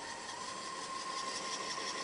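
A car engine runs at raised RPM while driving its alternator, giving a steady, fairly quiet hum with a constant whining tone over a faint mechanical rumble, unbroken and without talk.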